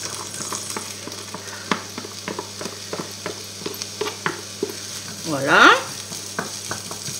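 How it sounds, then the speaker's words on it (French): Onions and garlic sizzle gently in a little olive oil, with a soft steady frying hiss, scattered crackles and utensil taps from stirring, and a brief spoken word near the end. "Je remets un tout petit peu de l'huile d'olive pour faire cuire mes oignons et mon ail."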